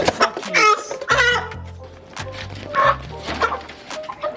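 Chickens on a poultry farm cluck and squawk in a dense, busy run of calls at close range, with a few louder bursts rising out of the flock.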